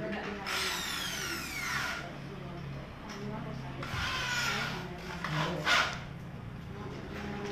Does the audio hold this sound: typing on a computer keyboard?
no